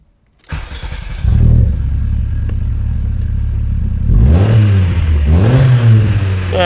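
A Volkswagen 16v ABF car engine in a garage cranks, catches and settles into a steady idle, then is revved twice in quick blips before dropping back, loud and close with no talking.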